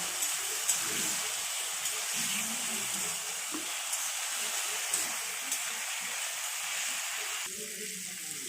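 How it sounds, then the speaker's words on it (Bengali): Spices with turmeric, salt and tomato sautéing in a pan for a fish curry, a steady broad sizzle with occasional stirring scrapes, close and continuous, with brief faint voice sounds near the end. "এটা দিয়ে ভালো করে আমাদের এটা কষিয়ে নিতে হবে"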